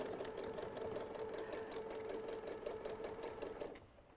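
A sewing machine stitches steadily through fabric and then back stitches, running in one continuous close whir that stops abruptly near the end.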